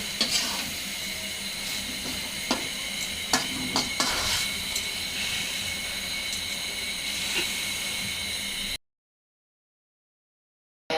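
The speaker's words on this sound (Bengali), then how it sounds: "পেঁয়াজ, কাঁচামরিচ, ডিম, লবণ আর আলু, গাজর, মটরশুঁটি সবগুলো একসাথে দিয়ে ভালো করে ভেজে নিতেছে।" Onion, green chili, egg, salt, potato, carrot and peas sizzle together in a pan, giving a steady, fairly faint fry with a few sharp ticks and clinks of stirring. The sound cuts to near silence at the end.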